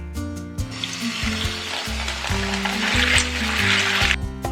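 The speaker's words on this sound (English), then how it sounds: "Next, we're just going to wash our beans." Pinto beans being rinsed in a bowl of water, a steady wet sloshing and rustling that runs unbroken for a few seconds under soft background music, with no one speaking.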